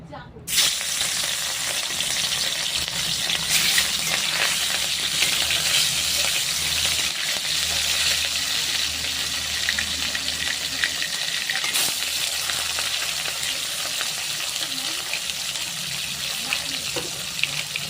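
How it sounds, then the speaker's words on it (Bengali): Katla fish sizzling in hot oil in a wok, a loud steady hiss of frying that runs throughout with occasional spatters and low stirring or handling sounds underneath. "তেলটা গরম হয়ে গেছে, আমি মাছটা দিয়ে দেব।"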